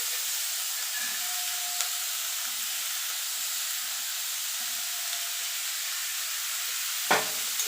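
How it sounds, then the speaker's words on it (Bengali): Carrots and chopped beans stir-frying in a pan, a steady broad sizzle with faint scraping stirs throughout and a sharp clatter of the utensil near the end. "দিয়ে একসঙ্গে সব সবজিগুলো ভাজা ভাজা করে নেব"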